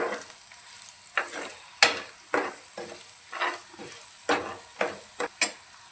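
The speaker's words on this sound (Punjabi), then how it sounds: "ਹੁਣ ਆਪਾਂ ਮਸਾਲਿਆਂ ਨੂੰ ਚੰਗੀ ਤਰ੍ਹਾਂ ਮਿਕਸ ਕਰ ਲਾਂਗੇ ਜੀ ਮਸਾਲਿਆਂ ਨੂੰ ਵੀ ਆਪਾਂ ਭੁੰਨ ਲਾਂਗੇ" Spices with coriander powder being stirred and roasted in a pan while cooking pumpkin curry, giving a series of scraping, clattering spoon strokes over a soft sizzle, close and moderately loud, with no talking.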